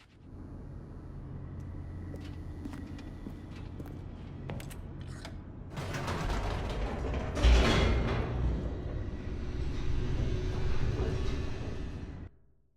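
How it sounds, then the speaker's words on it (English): Elevator plunging downward in The Stanley Parable: a steady mechanical rumble with creaks and clanks that grows louder and rougher midway, peaks with a heavy jolt, then cuts off abruptly. "The elevator raced downward, plummeting towards an unknown fate."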